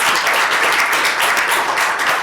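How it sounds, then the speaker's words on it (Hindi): An audience at a Ramayana discourse claps in sustained, dense applause, loud and even from start to finish with no talking over it. "इसके लिए तालियां आपने पहले ही बजा दी और बजा दी।"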